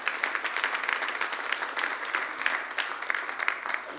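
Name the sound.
audience applause in church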